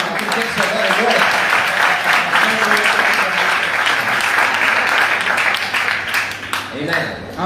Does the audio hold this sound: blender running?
no